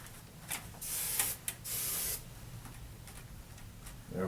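Transforming hair paste sprayed from an aerosol can: a few short, close hissing bursts, then two longer sustained sprays, followed by quiet.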